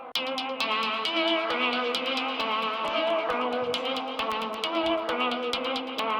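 A steady guitar melody rings out drenched in lush Valhalla reverb plugin, its notes blurring into a long, spacious wash alongside rapid sharp clicks or taps.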